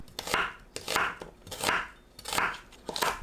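A knife slicing onion into 0.8 cm strips on a cutting board, crisp crunchy cuts in a steady rhythm of about six strokes, close and fairly quiet.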